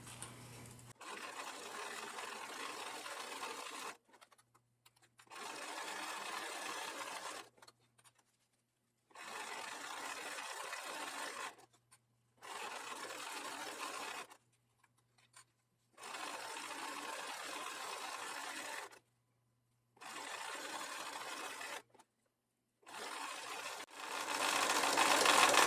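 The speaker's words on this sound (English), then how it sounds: "we're just sewing in a straight line" Sewing machine running a straight seam on fabric for a reusable grocery bag strap, in several steady bursts of a few seconds each separated by short pauses, fairly close and clear with no talking.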